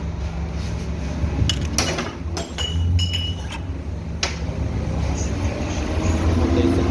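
Metal parts clink and tap against each other as a motorcycle transmission is taken apart during repair of a noisy gearbox, several sharp clinks scattered over a steady low background hum, close by.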